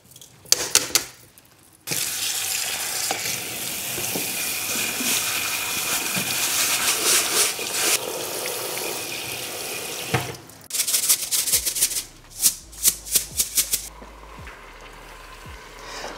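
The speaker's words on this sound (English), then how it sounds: "This here is basmati rice, which will become more slender and elegant" Basmati rice is washed under a running kitchen tap, with a steady rush of water that starts after a short pause, then gives way to intermittent splashes and sloshing bursts.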